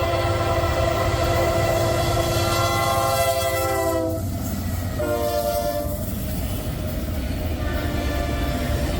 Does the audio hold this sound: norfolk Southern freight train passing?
yes